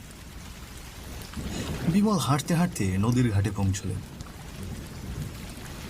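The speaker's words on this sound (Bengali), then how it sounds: "চারপাশে ঝোড়ো বাতাস, কাঁচা রাস্তা একেবারে কাদায় ভরে গেছে। তার শরীর ভিজে একেবারে চপচপ করছে। পায়ের নিচে কাদা, মাথার ওপর অঝোর বৃষ্টি।" Heavy rain sets the scene in an animated Bengali story, a steady rain hiss running throughout beneath a narrator's voice telling the tale.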